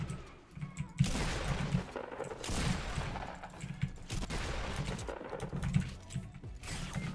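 Rapid automatic rifle fire in an online multiplayer shooter comes in dense, repeated bursts of loud shots over several seconds, with mechanical clatter running under a busy firefight.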